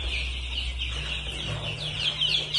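Phu Phan black chicken chicks, kept warm under a brooding lamp in cold weather, cheep and cluck continuously at close range in a busy, overlapping chorus over a low hum, with no talking.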